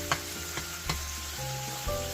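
Beef patties for Hawaiian loco moco browning in a pan, a steady close sizzle with a few light taps and clinks of a utensil against the pan.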